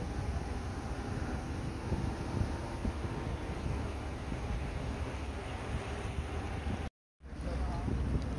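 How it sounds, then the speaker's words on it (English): Rapids on the Cuyuni River in Guyana, heard from a boat: a loud, steady broadband rush of churning water and wind that never lets up, broken by a short dropout of near-silence just before the end. "A terrible rapid."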